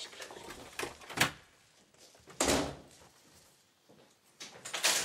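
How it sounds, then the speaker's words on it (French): An indoor door opens amid a surprise birthday gathering, giving a few separate knocks and thuds spaced across the moment, with quieter shuffling between them and a final cluster of bumps near the end. "ça c'est la porte"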